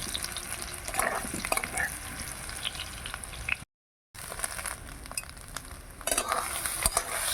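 Soybean chunks fry in a pan on a new clay stove, giving a steady close sizzle with occasional stirring scrapes and a brief dropout midway.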